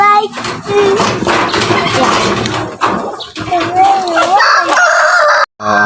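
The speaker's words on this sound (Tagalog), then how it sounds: "So many white chicken. Yan ang mga Rhode Island." A flock of Rhode Island chickens clucks and crows nearby, loud and busy, with rooster crows rising over the clucking and a voice talking among the birds.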